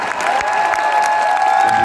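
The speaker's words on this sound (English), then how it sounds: "That deserved a round of applause, apparently." A concert crowd claps loudly and continuously, the dense applause mixed with faint cheering and a sustained tonal hum underneath.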